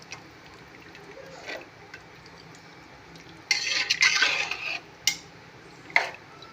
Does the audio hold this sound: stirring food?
yes